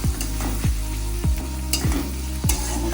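Loud, constant frying sizzle of egg bhurji with turmeric, a spatula scraping the pan in regular strokes, about one every half second.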